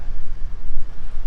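Cold, strong wind buffets the microphone at Yehliu fishing port on the Taiwan coast, a continuous low rumbling roar with uneven gusts and no speech.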